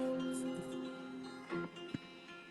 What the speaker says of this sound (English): Yeah, acoustic guitar, and it sounds like this.